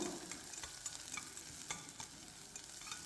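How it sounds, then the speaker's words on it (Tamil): Two medium onions, cut short, frying in oil with fennel seeds and curry leaves, a soft continuous sizzle broken by light scraping taps of a stirring spoon, quiet and close. "ரெண்டு மீடியம் சைஸ் வெங்காயத்தை நீளம் இல்லாமல் கட் பண்ணியிருந்தேன் அதையும் சேர்த்துக்கலாம் வெங்காயம் நல்லா கொஞ்சம் செவந்து வரட்டும்"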